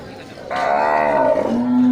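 An Aceh bull at a cattle market lets out a single loud, drawn-out moo that starts abruptly and holds for over a second before settling into a lower tone, close by and with no talk over it.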